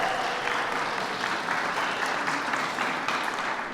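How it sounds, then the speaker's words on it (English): Audience applause at an end-of-summer youth celebration in Chicago, steady dense clapping from a crowd that continues evenly without talk. "Can you all give her a nice warm round of applause?"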